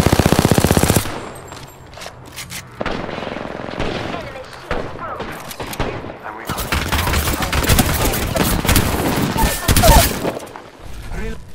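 Gunfire in Apex Legends: loud, rapid automatic bursts and dense volleys of shots, with brief pauses between bursts and clusters of impacts close by.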